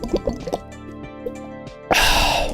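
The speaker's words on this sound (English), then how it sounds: "Water." Water drips falling in sparse single plops with echoing ringing tails, followed by a sudden louder rushing splash near the end.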